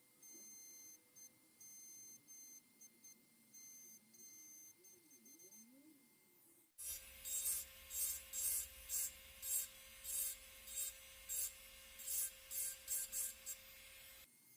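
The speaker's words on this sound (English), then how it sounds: "I'm going to scratch in the design using a small round burr" A small round burr scratches a design into a surface, heard as a run of short, regular, high grinding bursts, close and fairly loud, following a quieter, intermittent buzzing at the start.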